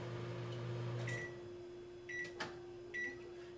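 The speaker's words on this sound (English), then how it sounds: "I'm only going to put it in the microwave for about 15 seconds." A microwave oven hums steadily while melting whipped body butter for dry skin, a quiet constant drone broken by a few short clicks and knocks near the end.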